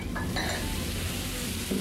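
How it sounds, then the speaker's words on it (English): Steady sizzling of meat on a hot plate at a restaurant in Itaewon, Seoul, loud and continuous, with a few clinks of metal utensils. "Aha, that's how it sizzles."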